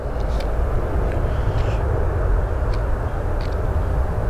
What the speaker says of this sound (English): We have an AA pushing back